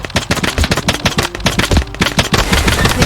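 Soldiers fire in the battle game TABS, a tank-versus-chopper fight, with dense, loud bursts of rapid gunshots cracking in quick succession throughout.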